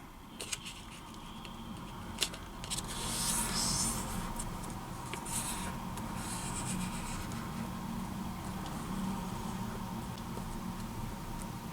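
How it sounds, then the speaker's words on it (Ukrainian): An 8 by 8 cm sheet of paper is folded corner to corner for a New Year's tree origami, with soft close crinkling, rubbing and a few sharp creasing taps over quiet room tone. "Беремо листок розміром 8х8 см і складаємо його з кута в кут."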